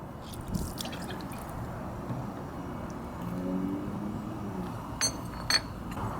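Water rinses a scooter CVT pulley part, a steady close hiss of running liquid spattering on metal, with a few brief sharp clinks near the end and no talk.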